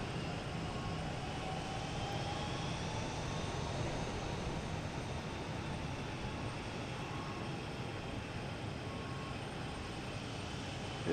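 Southwest Airlines airliner arriving from Chicago Midway at Boston Logan, a steady broadband jet roar that holds level and continuous throughout, fairly distant with no talk over it.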